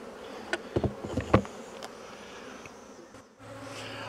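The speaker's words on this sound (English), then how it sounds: "I'm going to leave the inner cover on just to keep the bees as calm as possible" Honey bees buzz around beehives in a nuke yard, a low steady hum close by, with a few handling clicks and knocks early on.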